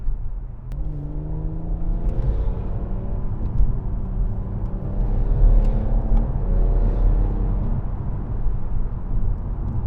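A BMW M140i with the B58 engine and automatic gearbox drives and accelerates, its engine note a steady, rising rumble with climbing revs, heard close and alone without talk.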